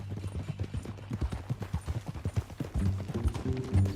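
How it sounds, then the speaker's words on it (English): Horse hooves clip-clopping at a walk in Red Dead Redemption 2, a steady run of close, crisp hoof strikes, with a low tonal hum joining near the end. "That new horse?"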